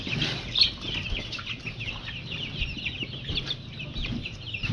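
Poultry chickens cluck in a noisy farmyard, soft overlapping clucks under a steady hiss of background noise, with one brief louder note near the start.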